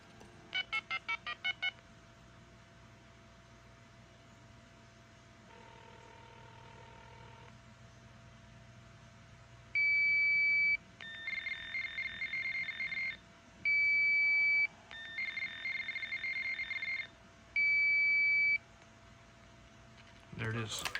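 A Radionics D2071 fire alarm communicator dials out on its phone line, with a quick burst of dialing tones followed by repeated steady beeping tones in separate blocks over a constant electrical hum.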